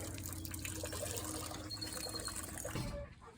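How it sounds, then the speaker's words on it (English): Water runs steadily into a container, a continuous close rushing and trickling that cuts off at the end. "And then we just fill the water right there."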